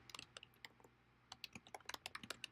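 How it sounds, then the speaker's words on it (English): Someone types a street address on a computer keyboard, a quick run of light, clicky keystrokes in two bursts split by a short pause, close but quiet, with no voices. "I'm going to type in"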